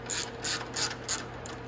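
A ratchet tightens bolts into the frame of a 125cc mini jeep, with four short bursts of rapid metallic clicking, close and clear, and no voices.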